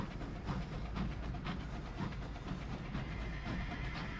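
A video game train rumbles steadily along with a low, continuous roar and faint rhythmic clatter, with a hissing wash over the top throughout.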